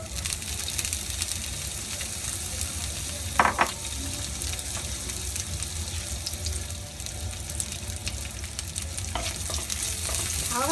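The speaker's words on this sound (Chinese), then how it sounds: "炒香啲腊肉啦" Cured pork sizzles and crackles as it is stir-fried in a little oil in a pan, with steady frying noise throughout and a few brief stirring clatters.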